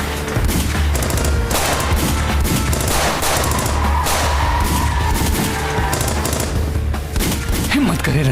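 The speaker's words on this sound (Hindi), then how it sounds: "तुम विंडो से निकलकर फायर करो इन पर" Sustained automatic gunfire fired from a car window during a TV drama chase, a dense loud rattle of rapid shots lasting throughout over engine rumble, with no pause.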